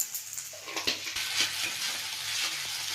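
Scrambled egg seasoned with black pepper frying in a pan while being stirred, a steady close sizzle with scraping utensil strokes and a few light clatters, no voices.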